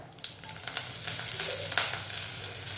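Mustard seeds, cumin, asafoetida and curry leaves crackle and sizzle in hot oil for a tempering for stuffed okra, a loud, continuous spitting fry close to the pan with no voices.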